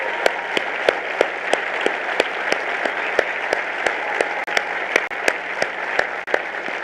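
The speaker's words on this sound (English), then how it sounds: "we'd like you to stand and applaud you for the great brothers, sisters, kids, nieces, and nephews that you have" Family members of finalists at the Bowerman Awards 2017 ceremony clap in a steady, sustained round of applause that fills the room, with a few sharp individual claps standing out.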